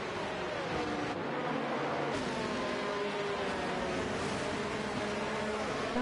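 Racing cars at Imola in a racing video game, a pack running behind the safety car, give a steady, continuous engine drone with overlapping whining tones that shift gradually in pitch.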